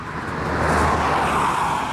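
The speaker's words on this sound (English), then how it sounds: "You have to excuse the traffic here" Road traffic passing by outside a workshop, a broad steady rush of a vehicle going past, fairly close and continuous.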